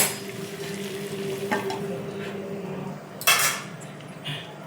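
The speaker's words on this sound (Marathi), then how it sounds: "त्याच्यावरती थोडं झाकण ठेवते" A lid is set onto a pan of stuffed okra (bharli bhendi) cooking on the stove, a sharp metallic clank over a soft background sizzle, with a few lighter utensil taps before and after.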